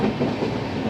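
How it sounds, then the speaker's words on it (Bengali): Steady rumble and rhythmic rattle of a passenger train running through the night, loud and continuous with no talking. "এই রাতের ট্রেন জার্নির একটা আলাদাই অনুভূতি।"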